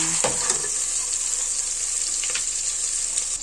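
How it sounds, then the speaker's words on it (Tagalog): Ginger sautéing in a hot pan for pork dinuguan, a loud, steady close sizzle with a brief stir near the start, no voices. "Yung luya. Sagisa muna natin."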